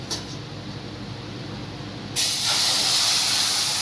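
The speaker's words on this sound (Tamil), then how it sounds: "இப்போ தண்ணி ஊற்றலாம்." Low background hiss, then a sudden loud sizzle as water is poured into a hot pan of roasted semolina and cardamom for rava kesari, continuing as a strong steady hiss.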